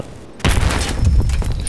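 A sudden loud burst of gunfire erupts in Battlefield 3 multiplayer on the Kharg map, then keeps going as a dense, continuous volley of close shots and heavy booms, with no talking.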